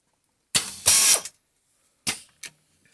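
An automatic bottle capping machine starts its cycle with loud mechanical bursts: two close ratcheting, clattering pulses, a pause, then two shorter clanks, all near and without talk.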